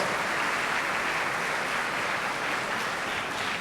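A large audience at the valedictory function of a national student science camp applauds the speakers, a thick, continuous wall of clapping at a steady level.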